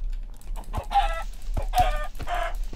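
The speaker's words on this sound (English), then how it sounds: "Ah, chickens are galore." Chickens in the Minecraft video game cluck in three short, clear bursts spaced about a second apart, with no talking over them.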